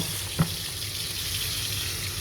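Tap water runs steadily as soapy suds are rinsed out of a freshly dyed T-shirt after hot water irrigation dyeing, a constant broadband rush with one brief splash or knock near the start.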